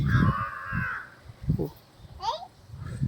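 A crow caws outdoors in the morning, a few harsh calls rising above nearby voices of people talking and moving about.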